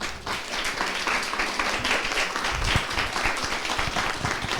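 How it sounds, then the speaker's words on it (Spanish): An audience applauding health promoters at a public health gathering, a dense sustained round of clapping from many people, fairly loud and close, with a brief voice under it. "Nada más yo quiero nuevamente darles un aplauso a las promotoras de la salud"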